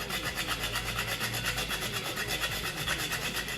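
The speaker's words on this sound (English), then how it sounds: "when I add the nutmeg, I grate it until it covers the surface" Nutmeg is grated over a Jamaican peanut punch shake, making a steady, rapid, close rasping scrape that continues throughout without any talk.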